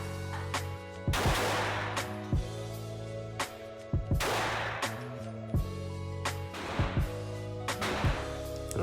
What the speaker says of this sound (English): I think this was like when I got to the end of shooting the Taurus.